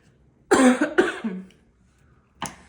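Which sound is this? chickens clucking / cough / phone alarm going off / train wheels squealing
cough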